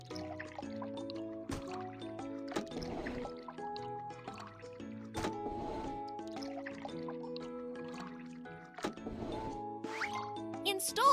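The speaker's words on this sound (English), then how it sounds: "Pour liquid into the correct tank." Cartoon liquid pouring into a car tank in a children's car repair game, short bubbly trickling and glugging bursts mixed with playful game tones and music, fairly quiet.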